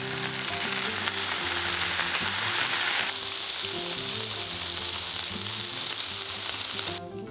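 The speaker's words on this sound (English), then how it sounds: "And now, let's get those bacon slices sizzling." Bacon slices sizzle in a hot skillet with a steady, loud, dense crackle that eases slightly partway through, while soft background music plays underneath.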